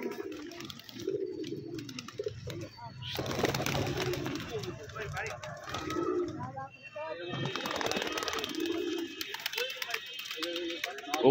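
Pigeons coo and call throughout a pigeon loft in Rajshahi, a steady layered murmur of birds near the microphone, with people talking over them at intervals.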